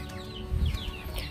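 Chickens in a mosquito-netted coop on a rural farm in southern Vietnam, giving soft, faint clucks and murmurs with a few brief louder bursts, sparse and fairly close in a quiet setting.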